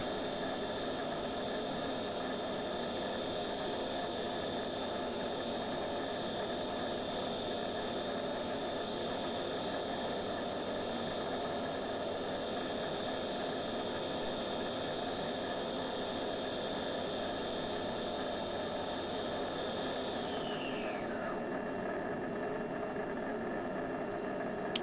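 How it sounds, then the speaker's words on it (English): A steady, loud dust extractor drone with a high whine runs throughout a wood-turning session on a bog oak bowl, then winds down near the end as the motor spins off. "You can hear my dust extractor working overtime in the background there"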